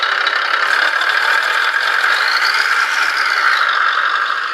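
A steady synthetic truck engine rumble from an RC sound module in a 1/14 Tamiya Grand Hauler drones continuously at a constant level, with a faint rattling texture and a slight rise in pitch midway.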